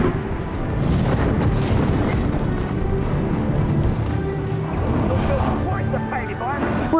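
Confringo fire-blast spells cast during a battle in Hogwarts Legacy, a dense, loud rumble of booming explosions and game effects that continues throughout, with a voice talking over it.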